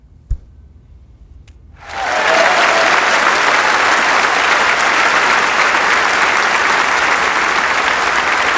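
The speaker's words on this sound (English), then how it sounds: "Frame and match, please clap." Applause from a snooker audience at the end of a match: after a single sharp click and near-silence, a dense, loud burst of clapping swells in and continues steadily to the end.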